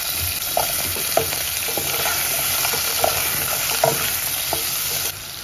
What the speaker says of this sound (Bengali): সেই আলুগুলো আমি ভেজে নেব।